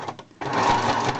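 A small mini sewing machine runs a straight stitch through paper, giving a close, loud, steady mechanical whirr that starts abruptly after a brief quieter moment and continues without pause.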